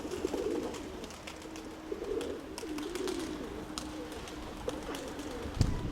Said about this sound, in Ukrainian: такий крупноватий голубок.